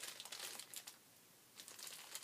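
Plastic packaging crinkles in two busy bursts of crackling with a short quiet gap between, close and fairly soft, with no voices.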